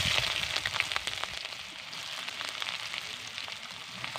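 Chopped onions dropped into hot mustard oil with cinnamon sticks and dried red chillies, giving a steady, close sizzle with dense crackling and popping throughout, loudest at the start and then settling into an even fry.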